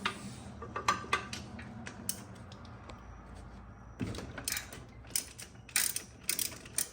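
A ratchet with a 17mm socket works loose the oil drain plug on a Honda TRX300 ATV, giving bursts of rapid metallic clicking close up amid clanks and shuffling, with no speech.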